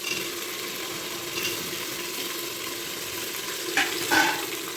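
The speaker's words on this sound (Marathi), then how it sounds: "10 मिनिटं त्याला ब्राऊन होईपर्यंत आपण फ्राय करायचं त्याला" Chopped onions and tomatoes fry in ginger garlic paste, a soft, steady sizzle with a couple of brief louder clatters near the end.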